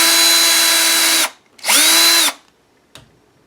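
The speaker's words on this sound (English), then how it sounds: "I'm going to drill a hole at the top and a hole at the bottom for our charm." A power drill bores holes in a faux metal book cover: a loud, close whine, a pause, then a second shorter burst that rises and falls in pitch, followed by a faint knock.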